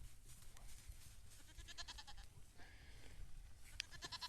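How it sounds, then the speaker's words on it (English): An Angora goat bleats among other farm animals in a pen, with several short, fairly faint calls over a steady low background rumble. "That's not a sheep. That is a goat. That's what's called an Angora goat."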